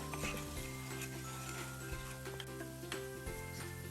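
Onions with salt sizzle in a pan while being stirred, a faint, steady frying hiss with light scraping ticks, heard alone.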